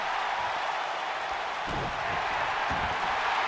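Arena crowd in the wrestling game WWE 2K19 during a SmackDown Live match, a constant broad roar of cheering with a couple of brief swells, no talk.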